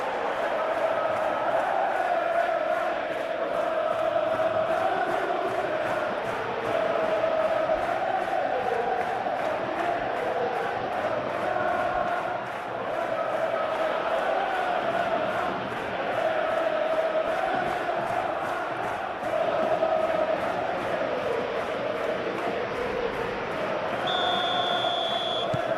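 Steady stadium crowd noise from a football video game, an Atletico Madrid versus Arsenal Champions League match, forms a continuous loud roar with a faint buzzer-like tone near the end.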